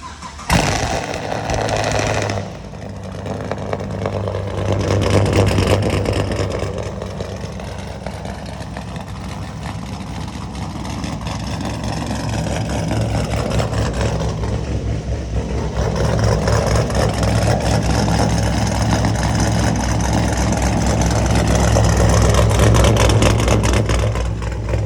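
Loud modified car engine fitted with a Cam Pro kit, running steadily with a rough, choppy idle and a heavy low rumble that swells slightly, close by with no talking.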